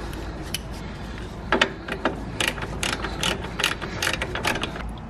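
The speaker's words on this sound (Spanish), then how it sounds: "ya apretamos el tornillo ahí" A ratchet tightening a bolt on a Honda CR-V trailing arm bushing during a repair, heard as irregular clusters of sharp clicking pawl strokes over a low background hum, close by and without speech.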